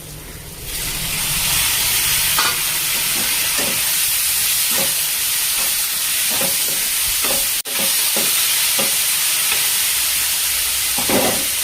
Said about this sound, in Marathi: आता मी यामध्ये टॅमॅटो टाकणार आहे